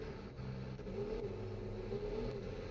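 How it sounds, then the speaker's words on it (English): A tractor engine in the farming video game Cattle & Crops, heard in a foggy night scene as a steady, low droning hum that holds at an even level throughout with no talking. "Still not crazy about the sound on this tractor."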